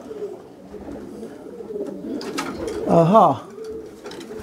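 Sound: pigeons cooing in a loft

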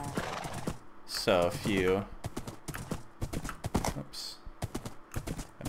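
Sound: horse hooves clip-clopping and neighing in Minecraft video game

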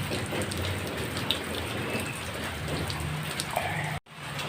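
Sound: rain on a rainy morning

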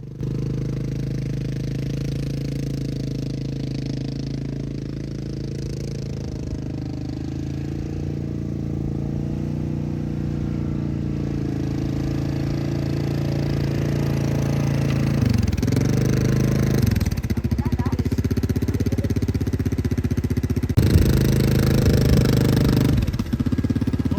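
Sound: quad bike engine running

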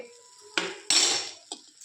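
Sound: fried vegetables being taken out into a sieve

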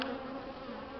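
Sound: angry swarm of bees buzzing

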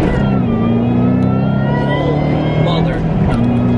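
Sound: 2007 Shelby GT500 accelerating, supercharger whine

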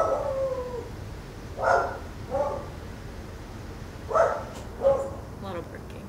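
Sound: dogs barking and howling

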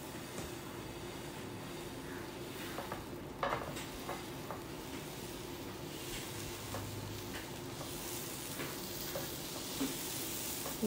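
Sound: instant dosa made from leftover rice cooking on a pan

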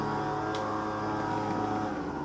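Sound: lawn mower running outside

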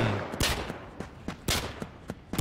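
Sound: sniper gunfire in the video game Fabwelt's Arsenal

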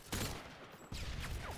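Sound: grenade launcher firing in video game Call of Duty Modern Warfare 2

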